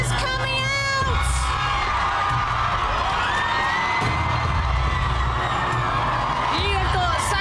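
A massive crowd of fans cheering and shouting as a reality TV star comes out, loud and continuous with whoops and children's yells throughout, voices mixed in.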